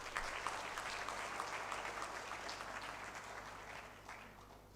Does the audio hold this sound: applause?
yes